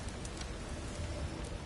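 Steady, close storm ambience of rain and wind in God of War Ragnarok, a continuous rushing wash with no voices.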